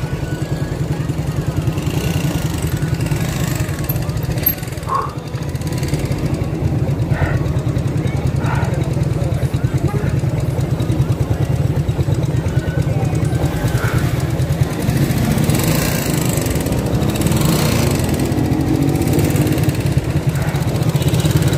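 A motorcycle engine on a new bike idles with a steady low throb and rises a little as it is revved, heard close with wind noise over it.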